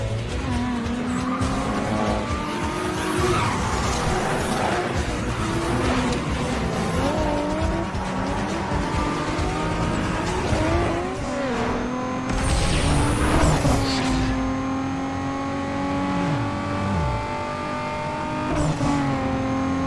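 Roaring car engines rev and shift continuously while tires squeal and skid in long screeches in a racing video game, using sounds from Need for Speed Underground 2 and Fast and Furious, loud and close throughout with no voices.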